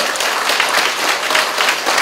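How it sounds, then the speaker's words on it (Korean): An audience at a party founding convention in Dangjin claps for election candidates, a dense continuous burst of applause filling the hall throughout. "이 후보들을 위해서 여러분께서 박수 한번 보내주시지 않으시겠습니까"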